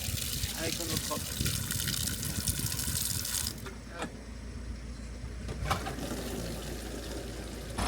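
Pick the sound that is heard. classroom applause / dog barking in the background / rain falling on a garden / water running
water running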